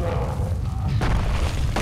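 Explosions in the video game Super Meat Boy, two sharp booming bursts over a rumbling low background, loud and close.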